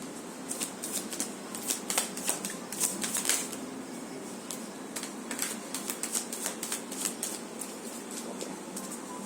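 Tarot cards being shuffled by hand, a steady run of soft papery riffles and slides with crisp flicks, close and fairly quiet, with no talking.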